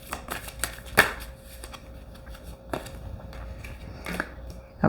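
Tarot cards are shuffled by hand close up, giving soft riffling flutters broken by several sharp snaps and taps from the deck over a few seconds, with no speech.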